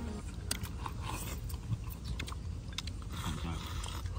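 Someone bites and chews cooked snakehead fish full of roe, giving close, wet crunching and mastication sounds that carry through the whole stretch at steady volume with no talk.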